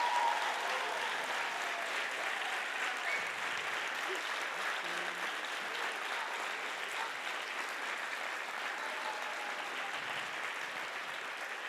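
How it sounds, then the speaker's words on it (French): A conference audience gives sustained, even applause for an organizer, a steady wash of many clapping hands that holds at a constant level for over ten seconds, with faint crowd murmur beneath. "je voudrais qu'on fasse un tonnerre d'applaudissements pour Julien"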